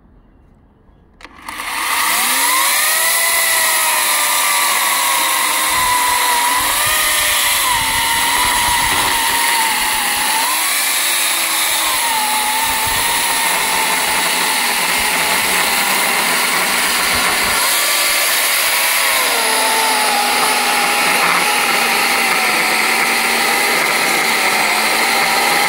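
A GTM electric chainsaw cuts through a thick hornbeam log: the motor starts after a moment and then screams loud and steady, close by, its pitch dipping and recovering as the chain bites into the wood.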